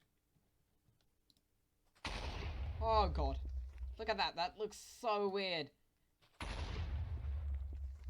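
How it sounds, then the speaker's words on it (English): Minecraft explosions at doubled power, two heavy booming blasts with rumbling tails, one opening and one near the end, separated by someone talking excitedly. "I have doubled the explosion power. It's now set to an explosion power of 32."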